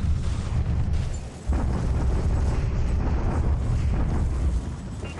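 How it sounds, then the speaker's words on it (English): Archival footage of a Japanese bombardment at Vigan, a dense, continuous low rumble of explosions and blasts with a short dip partway through, loud and unbroken. "Japanese bombardment at Vigan."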